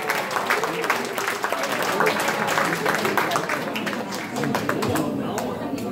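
An audience at the award ceremony of a 2019 charity golf tournament at Chuncheon Owners GC applauds in a sustained, fairly loud patter of many hands, mixed with crowd chatter and a speaking voice.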